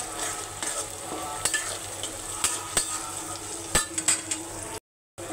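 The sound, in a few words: onions and whole spices frying in a pan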